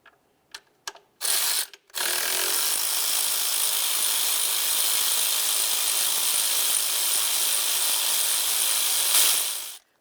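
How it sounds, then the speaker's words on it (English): A ratchet loosening 10mm bolts on the upper intake of a Dodge Journey, a few quick clicks and then a long steady whirring ratchet run, close and clear. "we just need to remove the 7 10mm headed bolts that hold it down"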